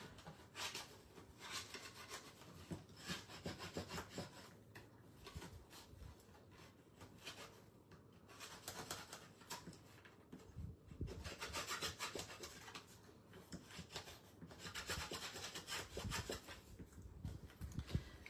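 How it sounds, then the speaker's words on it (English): A bone folder burnishing a paper crease flat while making a treat box, a steady dry rubbing and rasping that comes in long repeated strokes, close and moderately loud, with no talking. "so we get our bone folder and burnish and make that flat"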